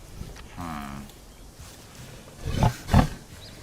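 Deep, roaring dinosaur calls from the video game Prehistoric Kingdom: a low drawn-out bellow followed by two louder, rougher grunting roars close together, with faint background noise in between.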